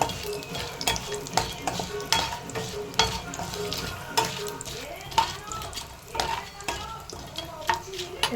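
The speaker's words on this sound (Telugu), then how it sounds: "బిర్యానీ ఆకు, ఇవన్నీ వేసుకొని కొద్దిసేపు ఫ్రై అవ్వనివ్వండి" Bay leaf, star anise, shahi jeera and other whole spices fry in oil in a pan for paneer butter masala, a light crackling sizzle with scattered pops, clinks and stirring scrapes, fairly close with no talking.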